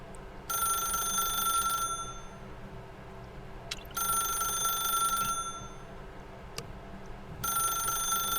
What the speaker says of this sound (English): I don't want to answer that phone.